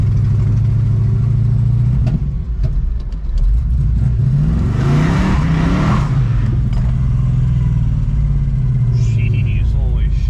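A Plymouth Cuda with manual steering on its first drive, engine rumbling and revving up as it accelerates, the note rising then settling, with people talking inside the car.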